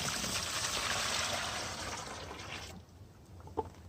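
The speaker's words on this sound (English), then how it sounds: "Pour your water in first." Water pours into a container for mixing homemade concrete weight plates, a steady splashing stream that fades after about three seconds, leaving a quiet pause and a single small knock near the end.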